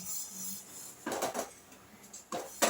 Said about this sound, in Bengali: শুকনো খোলায় ডালটাকে একটু আমি নাড়াচাড়া করে নিচ্ছি